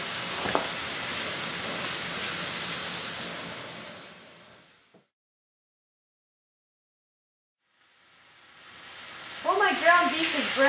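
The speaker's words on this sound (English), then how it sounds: "While my ground beef is browning" Ground beef browning in a pan gives a steady broadband sizzle for several seconds, drops to near silence, then the sizzle returns with a person talking over it.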